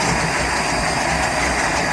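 A Volvo Penta 4.3 GI boat engine runs on a lake test, a loud, steady mechanical rumble with a fast, even rhythmic chug filling the whole moment, close by and without talk.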